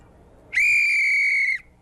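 A single sharp referee-style whistle blast held steadily for about a second, loud and piercing, with no talk over it.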